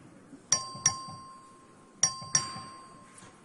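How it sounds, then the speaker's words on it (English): In a legislative House chamber, a clerk rings a bell for a record vote: several bright metallic dings ring out in two pairs, each strike leaving a clear sustained tone that lingers in a quiet room. "The clerk will ring the bell."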